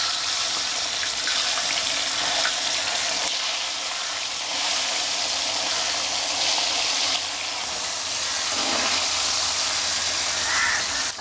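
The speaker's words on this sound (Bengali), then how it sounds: "এর মধ্যে আমি মাছগুলো ছেড়ে দিচ্ছি।" Small river fish dropped into hot oil with turmeric in a pan, giving a loud, steady broadband sizzle and hiss that continues without a break, close up, with no talking.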